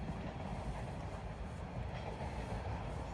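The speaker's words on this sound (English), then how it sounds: "And here comes another westbound train." A westbound subway train runs in the open through Tom Riley Park in Etobicoke, Toronto, before heading underground toward Islington Station, a continuous rumbling clatter of wheels on rails sustained throughout at moderate distance.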